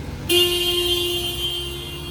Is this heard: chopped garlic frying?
no